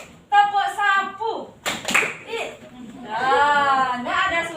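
Sixth-grade pupils play a classroom clapping game, with brief bursts of hand claps set among a teacher's sing-song voice and children's chanting voices, which take up most of the sound.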